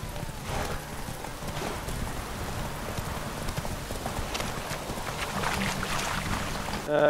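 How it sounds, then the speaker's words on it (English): Horse hooves pound in a fast, steady galloping rhythm during a horse race in the video game The Witcher 3, loud and continuous, with a faint wind-like rush behind them. "Good old horse racing."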